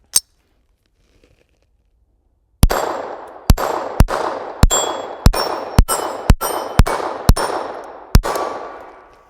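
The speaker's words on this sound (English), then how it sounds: "Let me shoot this a few times and we'll talk a little bit more about it." Browning Buckmark pistol, a Frankenmark build, firing at steel targets: about eleven sharp shots, each ending in a bright metallic clang and ringing decay, spaced roughly half a second apart after one earlier isolated shot.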